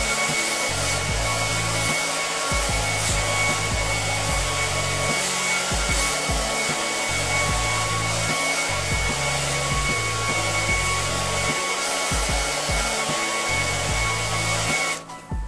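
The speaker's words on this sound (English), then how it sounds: "what I'm going to do is I'm going to put my hairdryer to the least power" A hair dryer blows continuously at close range, a steady loud whooshing hum with slight pulsing as it is moved through a man's hair, cutting off at the very end.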